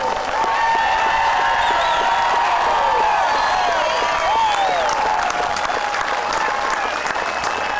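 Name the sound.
crowd applauding and cheering for Coach George Curry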